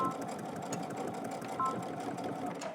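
A sewing machine stitches a short bar tack through the fly pieces of a pair of pants, running in a steady continuous buzz with faint clicks, close and moderately loud, with no voices.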